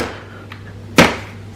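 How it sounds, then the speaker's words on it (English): Top cover of an HP LaserJet Tank printer shutting with a single sharp plastic clack, loud and close, after a faint lighter tap just before. "Close the top cover"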